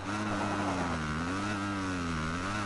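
A dirt bike engine in the MXGP 2021 motocross racing game revs steadily, its buzzing, mid-pitched drone rising and dipping slightly as the throttle is held.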